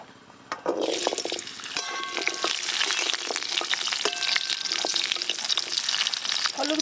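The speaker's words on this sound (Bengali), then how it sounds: "2-3 বার এইভাবে গরম তেলে ভালো করে নেড়ে নেব" Hog plums sizzle loudly as they hit hot mustard oil, a dense continuous crackle with scraping stirs and clinks from a utensil, close and steady with no talking.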